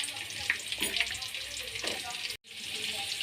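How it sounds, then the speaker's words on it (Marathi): Onion frying in hot oil with cumin and mustard seeds in a pan, a steady close sizzle with occasional stirring scrapes and a brief drop-out near the end. "आपण याला परताडून घेऊ आपण यामध्ये कांदा घालून घेऊ"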